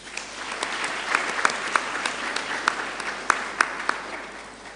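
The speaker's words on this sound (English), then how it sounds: "Let's clap for ourselves." At an inaugural university lecture, the audience claps for itself: a steady patter of applause with several sharper, louder individual claps standing out, moderately close and continuing evenly without speech.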